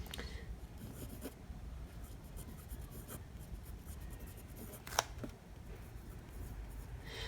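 A Winsome 3003 fountain pen filled with bright yellow-green fluoro ink writes dry and scratchy on paper. The strokes come as quiet, close rasping scrapes with a few sharper ticks.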